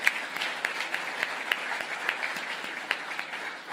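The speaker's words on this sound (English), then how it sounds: "let's clap to that." A university audience claps at a West Valley revitalization event, a light, moderately distant applause with scattered individual claps standing out, fairly quiet and steady throughout.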